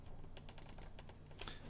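Keys struck on a computer keyboard during 3D modeling work in Maya 2018, a quick series of crisp, close clicks in an uneven rhythm, with no voices.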